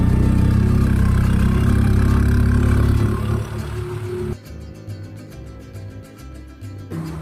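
A car engine labours up the steep Matheran ghat road, a loud low droning strain that eases off partway through, leaving quieter engine hum and road noise.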